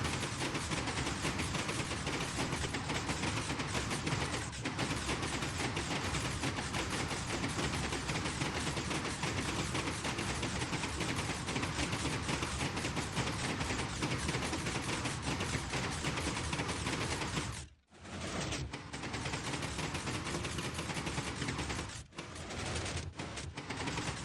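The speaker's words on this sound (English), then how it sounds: "you pretty much sit inside of a minecart and you have a bunch of pistons that push you along" Minecraft pistons rapidly shoving a minecart along a piston bolt, a dense, continuous, loud mechanical clatter that barely lets up for over twenty seconds, with one brief dropout near the end.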